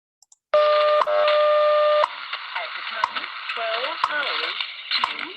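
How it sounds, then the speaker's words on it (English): WWV shortwave time-signal broadcast: steady loud beep tones give way to sharp regular clock ticks roughly once a second, with a voice announcement underneath the ticks amid radio hiss. "And so that's WWV, and those ticks are what we're talking about."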